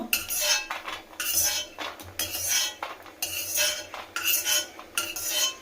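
Fried gram (chana) roasting in a pan, stirred in repeated bursts of metal scraping and rattling, close and fairly loud with short pauses.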